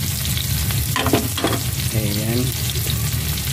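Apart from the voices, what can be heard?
onions frying in a pan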